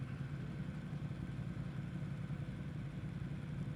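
Motorcycle engine running outside a restaurant in Tagaytay, a constant low rumbling drone with faint clatter, heard alone without speech.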